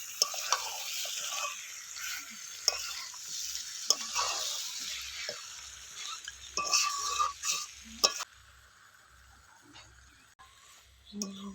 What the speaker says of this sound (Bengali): আলুগুলো দিয়ে আবার আমি কিছুক্ষণ ভালো করে মাংসটাকে কষিয়ে নেব।